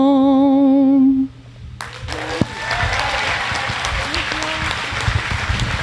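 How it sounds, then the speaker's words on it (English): An audience at a Vietnam veteran lapel pinning ceremony breaks into sustained applause right after a sung anthem ends, full clapping filling the room for several seconds. "Let's give her another big round of warm applause."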